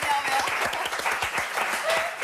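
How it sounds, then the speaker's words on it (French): Audience applause in a French television studio, a dense continuous patter of many hands clapping close and steady throughout, with a voice briefly audible beneath it. "C'est des applaudissements à la hauteur de mon énervement."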